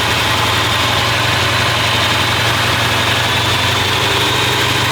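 A loud engine idles steadily at about 900 RPM with a low, constant rumble and vibration, unchanging throughout, with no voices.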